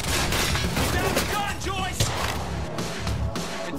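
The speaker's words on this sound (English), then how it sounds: "Opening fire! Shoot him down!" Gunfire in the video game Quantum Break, dense and continuous throughout with heavy booming layered under shouting voices.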